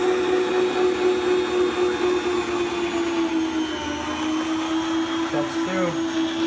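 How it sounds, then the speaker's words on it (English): An electric meat slicer runs while cutting jerky meat thin, giving off a steady droning motor hum with a constant whine, broken only briefly by faint knocks near the end. "with this machine right here, just put the meat on it, on this little thing they got here, and you just put it on that, turn it on, and the blade turns."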